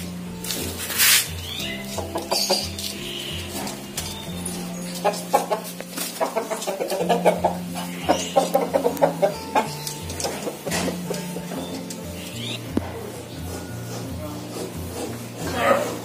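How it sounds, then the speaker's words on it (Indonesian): Chickens cluck and a rooster calls at a poultry market where ducks are sold, the birds close and busy throughout, mixed with people talking and shuffling around them. "Ada ayam. Ada ayam. Ayam."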